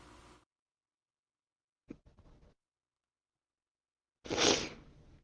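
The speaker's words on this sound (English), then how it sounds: "Just had like a crazy sneezing fit." One person sneezes in a quiet room several times in quick succession: a short burst, a softer one, then a loud, sharp final sneeze, with silence between.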